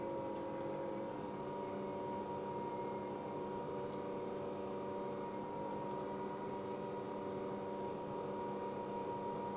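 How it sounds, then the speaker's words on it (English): Electric food composter running: a steady, even motor whir and electrical hum that stays constant throughout, with a couple of faint ticks and no voices. "Near the motor whirring away."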